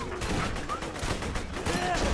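Gunfire in the Borderlands 2 video game during a boss fight: a rapid run of shots crackles throughout against the game's background noise.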